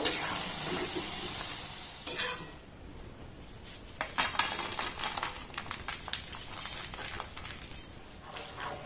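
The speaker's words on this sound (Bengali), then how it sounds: "এগুলো দেওয়ার পর একটু এইভাবে নাড়াচাড়া করবেন তাতে করে খুব সুন্দর এগুলো ভাজা হয়ে যাবে" Pithe stirred in hot frying oil for a sweet milk-soaked chushi pithe, a steady sizzle with scraping utensil clinks against the pan coming in bursts, louder toward the middle and end.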